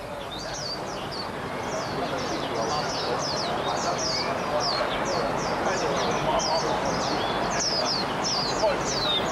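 Caged songbirds kept by men in China chirp and whistle in a dense, overlapping chorus of short repeated calls, steady and fairly close, with someone speaking over them.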